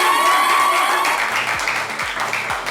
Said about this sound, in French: Le chaleureux public également qui m'accompagne est présent, il va s'applaudir.